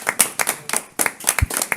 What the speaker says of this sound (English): give Marie a round of applause for serving in that capacity and doing an outstanding job